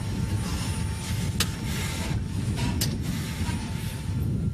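A small aircraft's engine runs on after landing in a steady, loud, broadband drone with a low rumble and a faint constant whine, unchanging for several seconds.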